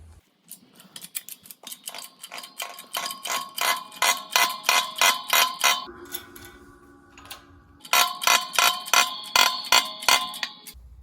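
A bearing is pressed onto a Dana 44 axle pinion with repeated sharp metallic clanging strikes in a steady rhythm, pausing briefly before a second quick run of clangs.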